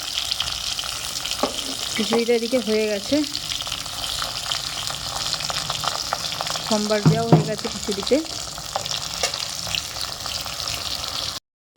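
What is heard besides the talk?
pointed gourd (potol) frying in a pan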